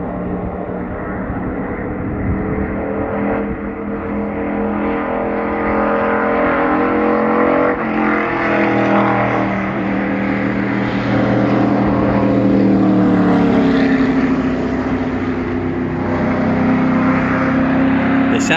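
Loud, continuous engine roar of race cars testing on a NASCAR track, rising and falling in pitch as they pass, with no break in the noise.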